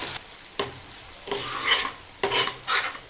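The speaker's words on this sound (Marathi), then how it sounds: "हलकेसे आपल्याला साबुदाणे तुपामध्ये फ्राय करून घ्यायचे आहेत" Sago pearls frying in ghee in a pan, stirred with a spoon: four or five distinct scraping strokes over a light, steady sizzle, close and clear with no talking.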